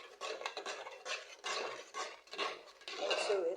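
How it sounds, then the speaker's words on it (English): Dried crayfish tipped into a pot of simmering jollof sauce for party jollof, with clinks of pot and utensil and steady stirring scrapes close by, a few spoken words briefly over it. "right now I'm adding my crayfish"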